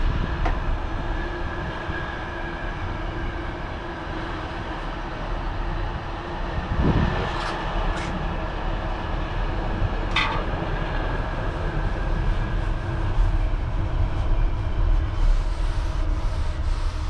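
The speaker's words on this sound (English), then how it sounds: "Another train." A train rumbles steadily past a narrowboat, a loud continuous rolling roar with a few clanks and squeals along the way, and no talking over it.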